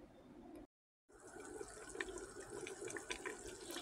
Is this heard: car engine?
no